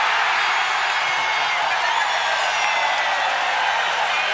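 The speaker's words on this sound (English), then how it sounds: "Listen to this crowd." A preseason NBA basketball arena crowd, Orlando Magic against the Detroit Pistons, roars in a dense, loud, continuous wash of cheering and noise that stays steady throughout.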